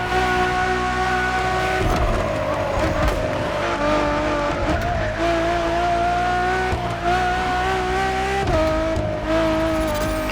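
Ferrari Enzo supercar driving in The Crew Motorfest racing game, its engine note rising and falling steadily through gear changes for the whole stretch, loud and close with brief tire noise and no talk.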